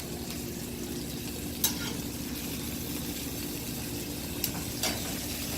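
Butter melting into a rustic steak sauce in a heated pan on medium heat gives a steady, close sizzle and fry hiss, with a few brief clinks of utensils against the pan.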